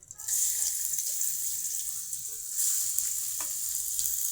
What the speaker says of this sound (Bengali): তেলটা গরম হয়ে গেছে এখন আমি পেঁয়াজ দিয়ে দেবো